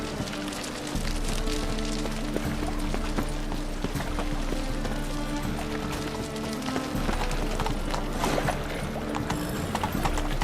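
A horse gallops with rapid rhythmic clip-clopping hooves in The Witcher 3, steady and prominent over a continuous low in-game background hum.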